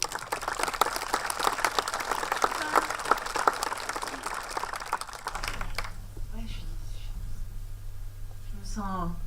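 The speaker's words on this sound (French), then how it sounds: "on peut même l'applaudir au passage" Audience at a post-screening film talk applauding, a dense patter of clapping for about five seconds that stops abruptly, followed by quieter room sound and faint voices.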